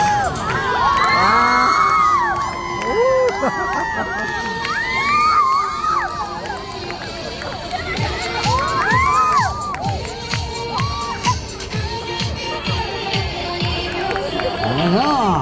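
Crowd at a street busking performance in Hongdae, Seoul, cheering, whooping and shouting loudly, with children's high excited voices, bursts of applause and a voice talking amid the noise, sustained and close.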